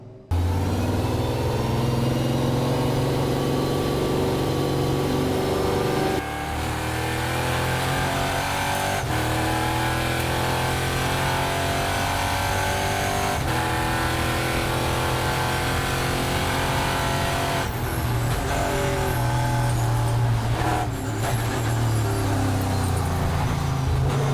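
Race car engine running continuously during the last practice session before qualifying at a village racing event in Schersleben, a steady loud drone with rising and falling pitch as the car accelerates and shifts, no voices.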